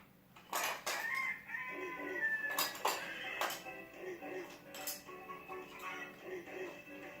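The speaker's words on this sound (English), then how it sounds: "Let's bring Mama Hen and her baby some corn from the silo" A hen clucks and a rooster crows in short bursts close by on a farm, woven through light clinking of dishes and music, with a person talking intermittently.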